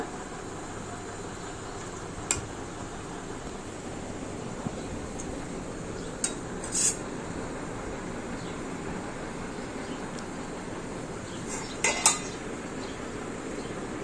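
Bottle gourd greens cook in a pan, with a steady sizzle and hiss broken by a few sharp clinks of a utensil against the pan.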